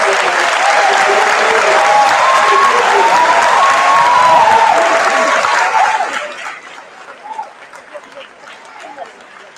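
Sustained audience applause at a 2023 agricultural sciences high school commencement ceremony in Chicago, dense and loud with a few whoops, then tapering off into scattered claps and quiet voices.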